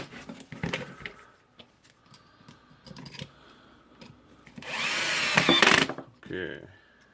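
Power drill drives a screw during repair of a Makita 9565CVR 1400W 125 mm angle grinder with an armature fault, a short loud whirring burst after scattered clicks and handling noises, then a brief second spin.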